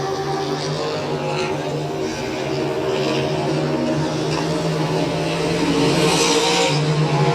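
Vintage race cars lap Electric City Speedway in Butler, Missouri, engines droning steadily with rising and falling revs as cars pass, a continuous loud motor roar throughout.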